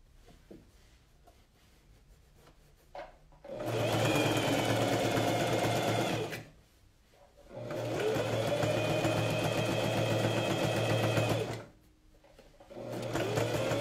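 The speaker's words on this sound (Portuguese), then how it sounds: "Tô costurando a manga aqui e vou fechar." Sewing machine stitching a jacket sleeve, close and loud, running in three sustained bursts of steady whirring stitches separated by quiet pauses.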